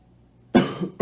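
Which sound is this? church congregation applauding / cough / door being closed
cough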